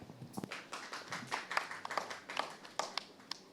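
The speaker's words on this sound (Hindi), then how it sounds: "जोरदार तालियां हो जाएं कविता के लिए।" Audience claps for a gospel singer on a televised singing competition, an uneven round of hand claps, close and moderate, fading in and out over a few seconds.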